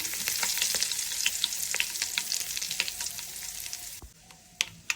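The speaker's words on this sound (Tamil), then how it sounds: "கொஞ்சமாக கருவேப்பிலை சேர்க்குறோம்." Asafoetida and curry leaves fry in hot oil with a dense, steady sizzle and crackle. Small pops and spits sound throughout, and the sizzling thins out toward the end as a few sharp crackles stand alone.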